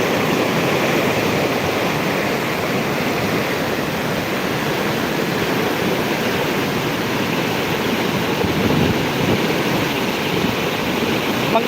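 Heavy overnight rain pours down alongside deep, rushing floodwater near overflowing, a loud, steady broadband roar that runs unbroken throughout.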